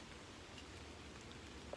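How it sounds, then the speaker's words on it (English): Steady rain falls outdoors around a tall tree, making a soft, continuous patter that is faint and even throughout, with no talking. "Here comes the rain."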